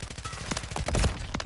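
Call of Duty Modern Warfare 3 gunfire: a quick run of sharp shots, several close and punchy, packed into a short burst with game ambience beneath and no talk.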